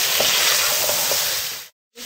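Mutton sizzles and crackles with onions in a handi pot, a loud, close, continuous frying hiss broken by a brief silent gap near the end.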